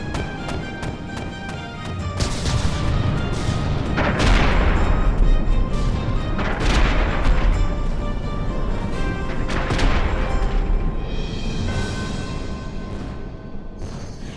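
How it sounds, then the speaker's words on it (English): Cannons in the naval combat game From the Depths fire at pirate ships in a long series of heavy, booming shots at irregular intervals. Rumbling blasts and crackling impacts overlap throughout. "It is undoubtedly satisfying seeing and listening to these cannons shooting down pesky pirates such as myself."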